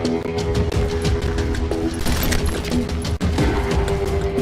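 Rapid, crackling gunfire from many revolvers and rifles in the Western shooter Call of Juarez Gunslinger, a continuous dense fusillade with overlapping engine-like drone and a brief gap near the end.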